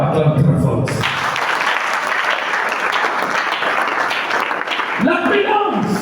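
A church congregation at a French-language sermon applauds loudly in a dense, sustained burst of clapping lasting several seconds, with a voice heard briefly at the start and end.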